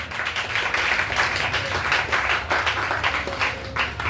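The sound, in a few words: congregation applauding and cheering in church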